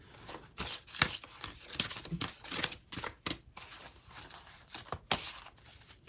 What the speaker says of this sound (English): shuffle them up